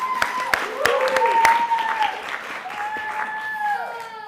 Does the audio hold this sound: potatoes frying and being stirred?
no